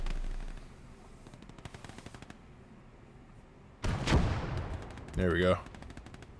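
Tank cannon and gunfire shots in the WWII strategy game Gates of Hell: Ostfront, with T-34 tanks firing HE rounds; a loud blast, then a second sharp burst over distant rattling gunfire, with someone speaking briefly.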